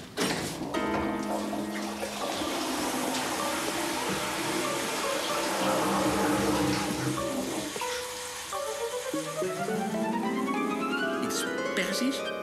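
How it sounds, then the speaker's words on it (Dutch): A toilet flushes indoors in a domestic setting, a loud rushing gush of water that swells and then trails off into a refilling hiss. A voice is heard over the flush. "Verdomme, Thijs, zou je niet voor de verandering eens een keertje fatsoenlijk doortrekken?"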